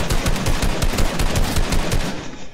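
Rapid automatic gunfire from the Fortnite video game, loud and dense, runs in a continuous rattling burst of closely spaced shots for the whole stretch with no voices over it.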